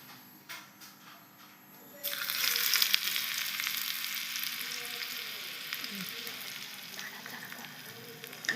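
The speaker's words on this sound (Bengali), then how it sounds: "প্রথমে আমি তেল দিচ্ছি। এবার আমি পেঁয়াজ কুচি দেব।" Chopped onions drop into hot oil and burst into a loud, steady sizzle that stays close and continuous, with occasional stirring scrapes after quieter handling sounds at the start.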